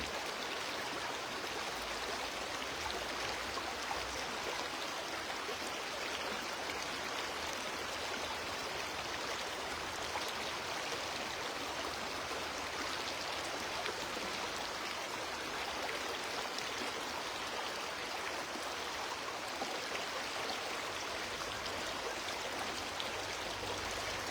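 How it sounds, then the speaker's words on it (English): River water flows in a steady, unbroken rush with a soft hiss, constant and fairly quiet throughout with no talk. "as you hear the sound of the eternal river flowing in you"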